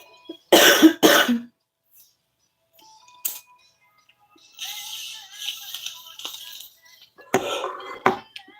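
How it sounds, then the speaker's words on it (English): A person coughs twice in quick, harsh bursts up close, followed by scattered clinks and rattling of small objects and a later rough cough or throat clear. "excuse me, for any and all coughs"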